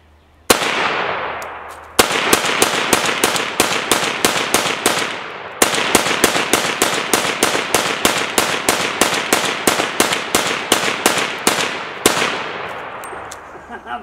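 Rapid volleys of M1 carbine gunshots fired outdoors at a target, loud and sharp, in long rhythmic strings of evenly spaced cracks with brief pauses between bursts.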